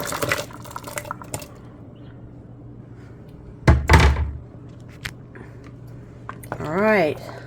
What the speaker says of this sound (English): And it's time to add the rest of our ingredients. Starting with the squash and the carrots.